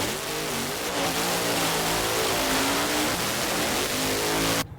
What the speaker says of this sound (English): Quayne Stott burns out the Lee Boys sponsored entry